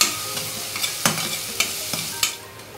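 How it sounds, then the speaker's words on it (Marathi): Ginger garlic paste is sautéed with onions in a pan. A spatula scrapes in regular strokes about every half second over a soft, steady sizzle, with no talking. "आता आपण याच्यामध्ये अर्धा चमचा आलं लसूण पेस्ट घालणार आहोत, ती सुद्धा 2 मिनिटांसाठी परतून घ्यायची।"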